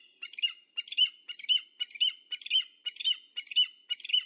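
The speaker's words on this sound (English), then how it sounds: "It's a baby eagle." A baby eagle at the Hoover Dam gives a run of eight shrill, squawking calls in an even rhythm, each call short and evenly spaced, clear against a quiet background.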